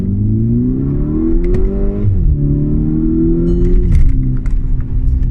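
A VW Golf Mk6 GTI with a DSG gearbox and stock exhaust pulls hard, its engine note climbing steadily through two quick upshifts with a brief dip at each change, loud and close.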